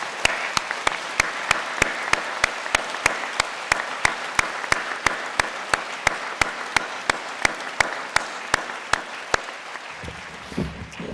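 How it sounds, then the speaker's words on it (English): Audience at a Cardiff degree ceremony applauding, a dense, sustained clapping from a large crowd, loud and even for about ten seconds before it fades out. "give all of them who've supported you through to your success today a huge round of applause"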